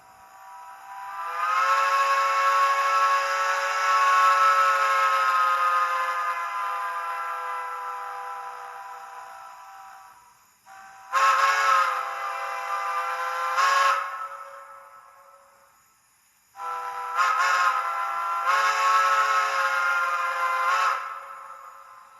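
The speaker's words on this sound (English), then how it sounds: "My favorite part is the whistle, which I'll play for you here." A model train's steam whistle blows three times: one long sustained blast, then two shorter ones after brief pauses, loud and clear with no talking.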